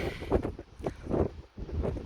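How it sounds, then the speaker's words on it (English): Strong wind on a mountaintop buffets the microphone in heavy, uneven gusts, rumbling and roaring with brief lulls between blasts. "it's windy as hell up here again, so you probably can't hear me"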